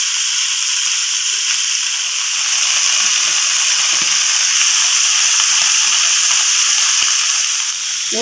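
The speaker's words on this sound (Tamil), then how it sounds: "கடுகு போட்டுக்கிறேன் முத்தம்பருப்பு கடலைப்பருப்பு" Mustard seeds, urad dal and chana dal sizzle in hot oil, a steady bright hiss with faint crackles and pops running continuously and close.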